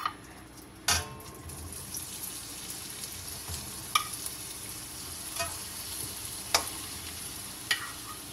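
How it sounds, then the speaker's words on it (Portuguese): Cassava frying in butter in a hot pan, a steady soft sizzle with a few sharp clanks and scrapes of a utensil stirring at intervals, close up with no talking. "A panela já estava quente, então não preciso demorar para colocar a nossa mandioca"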